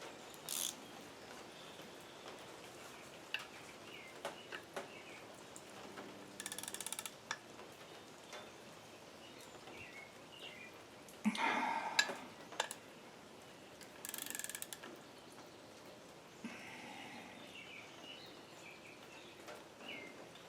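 Intermittent ratcheting bursts as bolts are tightened on the water pump of a 1967 Ford Mustang with a 347 stroker engine, short faint clicking runs separated by quiet gaps and small mechanical clinks.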